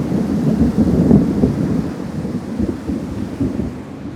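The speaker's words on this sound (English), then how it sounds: "That was a clap of thunder." Deep, rolling thunder rumbles loudly through the whole stretch, swelling early and then slowly fading, with a hiss of rain or wind underneath.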